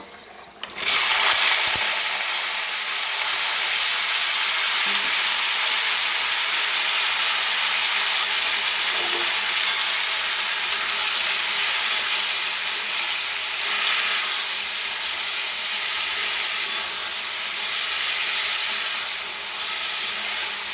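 Chopped beans, potato and eggplant dropped into hot oil with five-spice seasoning, a loud steady hiss of frying that starts abruptly and holds evenly, with faint stirring scrapes now and then.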